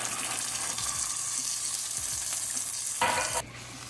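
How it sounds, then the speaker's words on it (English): A stew sauce in a pan hisses and sizzles loudly as tomato sauce, crushed tomatoes and shrimp stock go in, with scraping stirs and a sharp burst of splashing near the end before the sizzle quiets. "Now add to the sauce, tomato sauce, crushed tomatoes, along with shrimp stock"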